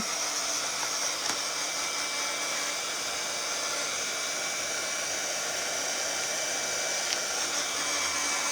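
A hair dryer blows steadily on painted Scrabble-style tiles, a constant close airy whoosh that runs unbroken and alone the whole time.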